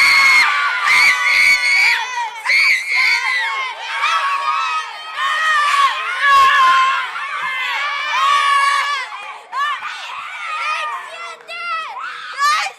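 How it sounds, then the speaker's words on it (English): A group of children screams loudly together on cue, a sustained, shrill, high-pitched chorus with brief dips and surges across several seconds. "I don't know if you guys can do a better job at giving me a big, big scream"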